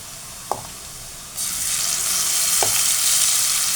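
Two spoonfuls of tomato paste hit hot oil in a pan with golden potatoes, setting off a sudden loud, steady sizzle after a couple of light spoon taps.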